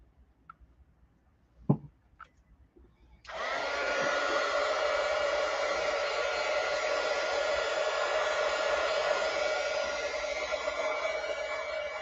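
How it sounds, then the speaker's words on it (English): A handheld hair dryer switches on after a few faint clicks and then blows steadily and loudly, a close, continuous rushing whoosh that runs unbroken to the end with no voices over it. "let me hit this with the dryer real quick"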